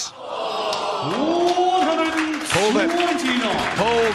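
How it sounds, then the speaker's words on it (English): A darts crowd roars with rising whoops and cheers, mixed with scattered applause, after a missed nine-dart finish attempt in a professional match. The noise is loud, dense and continuous throughout. "A round of applause there from Paul Hogan as well."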